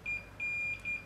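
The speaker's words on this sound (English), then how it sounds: "the beeper starts beeping again" A Dasqua 8400-0005 digital inclinometer's high electronic beeper chirps repeatedly in quick irregular pulses as it nears plumb, faint and close, with a quiet background.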